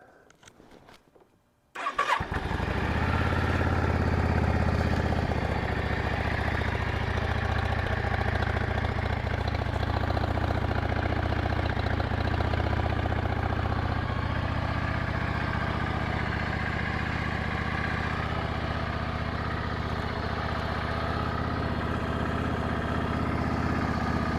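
A Yamaha V-Star 650 Classic motorcycle with a little choke applied cranks briefly, then catches and settles into a loud, steady, close idle that runs on alone.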